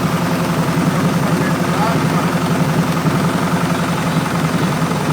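Truck motor prone to backfiring idles loud and close with a rough, throbbing low rumble, while a voice talks over it.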